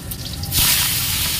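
Garlic and radhuni seeds drop into hot oil, which bursts into a loud, steady hissing sizzle partway through after a quieter moment, close and alone without talk.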